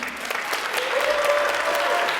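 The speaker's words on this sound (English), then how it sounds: "one more huge round of applause for Antoinette Mike" Audience applause for a contestant at the Miss Indian UNM pageant, 2015: steady clapping from a crowd sustained throughout, with a faint tonal whine partway through.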